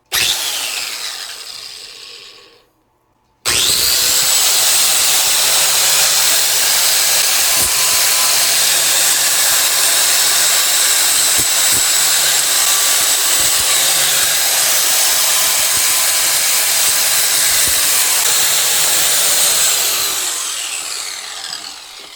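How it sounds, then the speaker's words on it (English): A handheld angle grinder cleans up a part from a battered lawnmower engine, running as one loud, steady high whine for about sixteen seconds after a brief quiet gap, then trailing off. "Let me grab the grinder and quickly clean this up."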